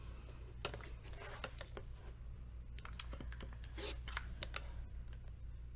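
Fabric for a Sewcialites quilt block being cut: a quiet run of crisp, rapid clicks and snips in uneven clusters, close by and heard on their own over a faint low hum.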